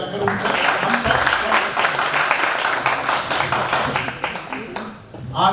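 An audience at the inauguration of the Radha-Madhav Hall at Teerth Vikas Bhawan in Goverdhan claps loudly and continuously, a dense patter of many hands that thins briefly near the end before swelling again.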